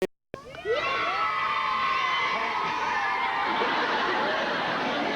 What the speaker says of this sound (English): so you give him a nice big cheer